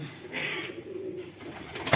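A pigeon coos softly nearby, a low throaty warble over faint background noise, ending with a brief sharper rustle.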